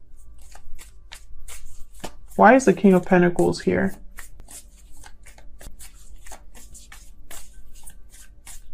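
Tarot cards shuffled and handled during a reading, with soft papery clicks and flicks running through the scene while a person talks.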